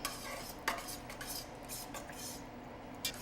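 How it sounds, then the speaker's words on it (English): Tomato paste stirred into a simmering pot, with scraping and clinking of a utensil against the pot, several sharp taps standing out over a steady low bubbling background. "We're gonna add 3 tablespoons of tomato paste. Throw it in there, mix it around."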